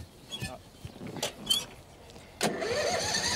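A lawnmower engine being pulled to start at a Domesday mill site in Dotton, Devon, heard as scattered short pulls and sputters before it catches at about 2.4 seconds and runs on as a steady, moderately loud hum.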